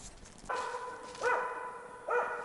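A hunting dog barks in taiga forest, with three loud, sharp barks spaced apart in the near distance, over quiet forest background.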